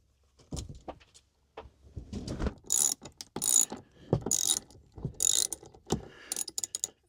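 A socket ratchet clicks in quick bursts while loosening the large seat bolts inside a minivan, with steady rapid pawl ticking and short pauses between runs, close to the listener.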